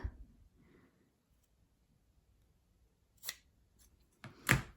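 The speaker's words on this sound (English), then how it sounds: "you might need to give these flaps a bit of a trim" Scissors snip a few times to trim fabric flaps on a boot-shaped notebook cover, two crisp close cuts after a near-silent stretch, with faint handling rustles before them.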